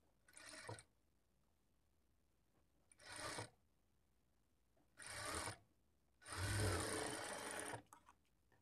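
A sewing machine stitches a folded seam on a lining blouse in four separate bursts, the last one longest, with quiet pauses between runs and no talking.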